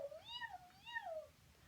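A cat meowing: two drawn-out, rising and falling meows in quick succession, soft and close against a quiet background.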